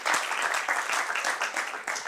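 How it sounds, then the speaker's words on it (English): Short burst of audience applause for a speaker at a talk on stop-smoking services, dense steady clapping from a crowd that stays loud throughout. "A round of applause for Judy."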